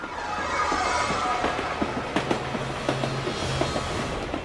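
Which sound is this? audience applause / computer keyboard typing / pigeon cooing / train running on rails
train running on rails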